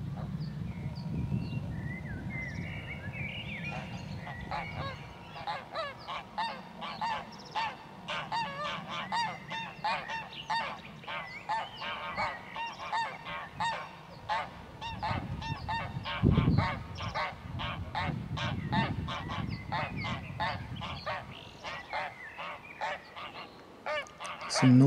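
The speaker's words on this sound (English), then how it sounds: "Some noisy geese in there." A flock of geese honks continuously and loudly, overlapping calls with a few sharper bursts, mixed with low background rumble.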